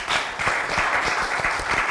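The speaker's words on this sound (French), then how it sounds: "On l'acclame encore très fort." Crowd at a gathering on women's political engagement applauds steadily for a full stretch, a dense wash of clapping with some cheering mixed in, fairly close and loud, no speech over it.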